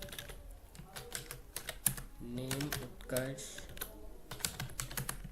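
Fingers tap out a name on a computer keyboard in quick, uneven bursts of close clicks, with a voice speaking over and between the keystrokes.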